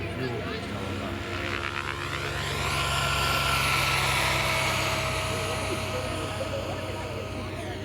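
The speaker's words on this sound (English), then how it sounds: "We're flying an electric helicopter." An electric RC model helicopter flies at an airport field demonstration, its steady whirring drone swelling louder as it passes nearer mid-clip and then easing off, continuous and fairly loud throughout.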